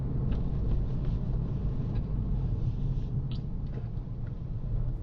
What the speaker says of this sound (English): Listen to my car's speed before the vehicle emerges.